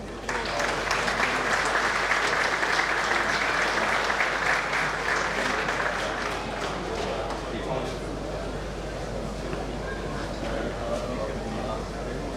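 Sustained, dense applause from an audience at a firefighters' solidarity day event in Slovenske Konjice, steady and loud throughout with a low hum beneath.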